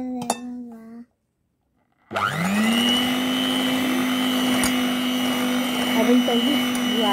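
An electric whisk mixes sugar into cake batter, starting after a short pause with a steady, loud motor whine and a faint clink of the beaters against the bowl, while a voice is heard briefly at the start.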